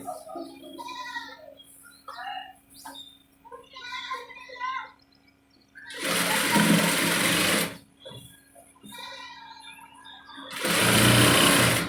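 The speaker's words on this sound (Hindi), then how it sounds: "इस तरीके से हम ये सिलाई लगा लेंगे।" A sewing machine stitching a men's cotton vest (banyan) whirs in two bursts, a sustained run of about two seconds and another near the end, with someone talking between runs.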